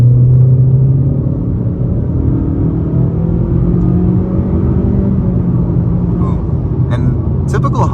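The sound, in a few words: 2023 Honda Accord LX engine accelerating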